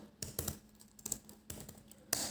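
CSS code being typed on a computer keyboard, a quick, close run of faint irregular clicking keystrokes with no voices.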